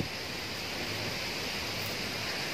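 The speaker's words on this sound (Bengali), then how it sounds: "প্রচন্ড হাওয়া উঠেছে একদম" Strong gusty wind before a rainstorm sweeps through trees near a home veranda, making a continuous broadband rushing roar that stays loud and even throughout, with no voices.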